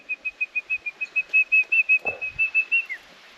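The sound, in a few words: person whistling, imitating a dove call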